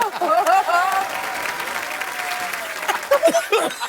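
A studio audience at a Hindi comedy talk show claps and cheers in a steady burst of applause, with voices heard over it.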